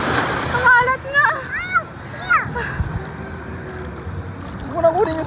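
Strong sea waves splash and wash at a beach in Matabungkay, with water noise and wind under excited voices of children and adults talking and shouting nearby.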